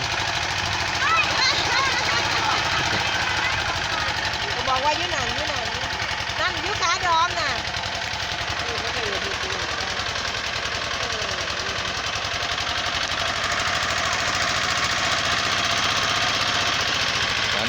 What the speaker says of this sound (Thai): ก็เร่งเครื่องสูบน้ำอย่างแรงนะครับ